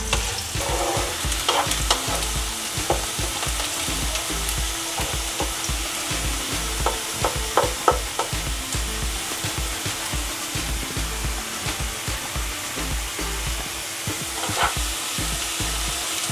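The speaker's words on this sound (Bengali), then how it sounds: "পেঁয়াজটা হালকা লাল লাল ভাজা হয়ে গেছে" Chopped onions fry in hot oil for a green chicken curry, a continuous sizzle with repeated scraping and knocking of a spatula stirring the pan, steady and close, no voices.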